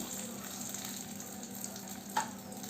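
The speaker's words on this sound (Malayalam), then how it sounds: "ഇപ്പോൾ വറവ് തയ്യാറായിട്ടുണ്ട് നമുക്കിത് അരച്ച് വെച്ചിരിക്കുന്ന ചട്നിയുടെ മീതിയേക്ക് ഒഴിച്ചു കൊടുക്കാം" Hot tempering poured over ground onion and coconut chutney, giving a soft, steady sizzle with a brief sharper splash near the end, close by with no talk.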